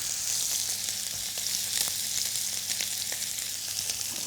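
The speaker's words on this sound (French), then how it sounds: "Pour le faire toaster dans une poêle avec un petit peu de matière grasse." Bread toasts in a frying pan with a little fat, giving a steady, close sizzle with small crackles throughout and no talk.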